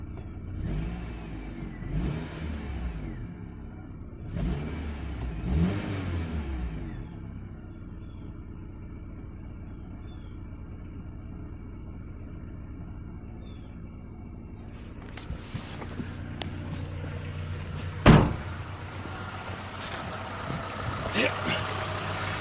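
Engine of a 1998 Honda Civic EX idling steadily at low rumble, with a few rev surges early on, heard alongside people talking nearby and clanks and knocks later on.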